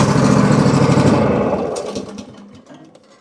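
A Craftsman DLT3000 riding mower that runs rough and leaks fuel drones loudly and close at about half throttle. The engine then fades away, leaving faint clicks and near silence.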